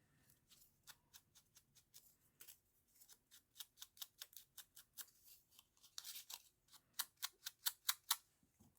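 Scissors snipping paper for a Springtime in Paris junk journal, a quick run of crisp close cuts that start sparse, then speed up into a steady clicking rhythm, quiet room, no talking.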